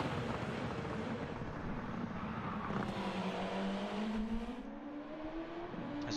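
A touring car in a racing video game accelerating onto a flying lap, its engine note climbing through the gears in a steady, close, loud drone with gravelly road noise beneath.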